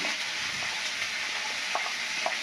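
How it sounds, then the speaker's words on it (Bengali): Cauliflower frying in oil in a pan while being stirred, a continuous bright sizzle with occasional light scrapes and taps of a spatula, close and steady. "এবার ফুলকপিটা ভেজে নেব"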